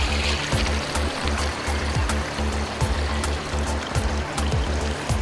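Water rushes steadily from the Trou Madame karst spring resurgence, a continuous close broadband flow with a low, pulsing rumble beneath it and no voices.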